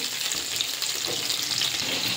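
Katla fish head sizzling in a pan of hot oil: an even, unbroken frying hiss with faint crackles, heard up close and alone.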